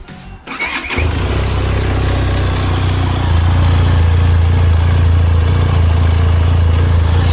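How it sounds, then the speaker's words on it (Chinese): A 2021 Benelli TRK 502 motorcycle's exhaust catches after a brief start and settles into a steady, deep idle, loud and close, with a constant low throb. "现在是怠速的声音"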